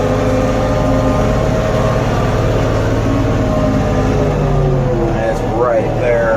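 An LS XR4145C tractor loader being driven, a steady loud engine drone that runs throughout, with a faint rising whine near the end.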